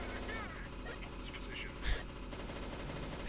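Automatic machine-gun fire in the video game CS:GO rattles continuously as a dense, steady stream of gunshots, with a louder, punchier burst partway through amid other game noise.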